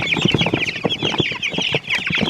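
Three-week-old chickens, not yet fully feathered, cluck busily and steadily at close range in a farm coop, with many overlapping short calls and no talk.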